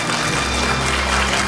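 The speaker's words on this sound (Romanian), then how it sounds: "aș vrea să îndreptăm către dumneaei primele aplauze din această seară" Audience applause at a school folk show for the Dragobete celebration, a steady dense wash of clapping filling the hall without a break, fairly loud and with no voices over it.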